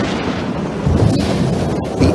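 Thunder from a thunderstorm, a loud, deep continuous rumble that swells slightly partway through and holds steady, with no voices.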